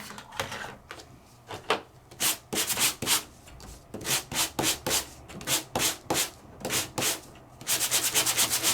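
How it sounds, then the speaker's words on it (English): Sandpaper rubbed in quick, rhythmic back-and-forth strokes across an embossed paper panel for scrapbooking, a close, dry scratchy rasp repeating in bursts with brief pauses, no voices. "So let's sand that real quick so you can see the relief."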